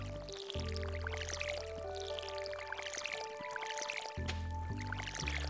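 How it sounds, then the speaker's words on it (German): Watering crops with a watering can in the farming video game Stardew Valley: a soft, splashy pouring and dripping sound plays over steady game music, with no talking. "Einmal gießen."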